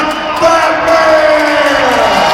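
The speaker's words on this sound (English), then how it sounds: "Your applause for John Cstock" A large arena crowd at a monster truck show roars and cheers for a driver, a dense, loud wash of noise with rising whoops and no clear separate claps.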